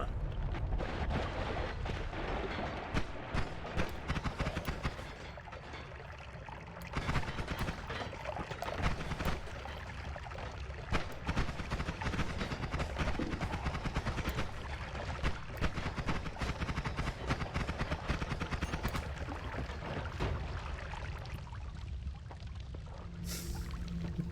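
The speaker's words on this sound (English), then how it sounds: "Kaboom!" Continuous roaring, crackling explosion rumble with dense debris bursts from a blast in the Noita video game, loud and sustained with no voice over it.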